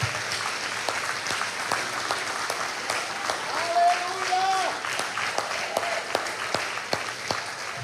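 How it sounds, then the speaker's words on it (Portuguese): A Sunday evening church congregation gives steady applause to the Lord, many hands clapping in a dense wash, with sharper individual claps and a voice heard briefly over it. "Você pode dar uma salva de palmas ao Senhor?"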